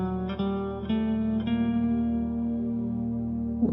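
Piano scale in F Lydian sharp 2, a few separate notes stepping upward before settling into a long sustained tone, washed in reverb and echo, close and moderately loud with no voices.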